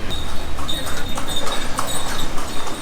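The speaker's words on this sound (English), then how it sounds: "And a touristy horse just passed by here." A touristy horse passes along a street in Kuta, Bali, its hooves clip-clopping in a steady, close rhythm over faint street ambience.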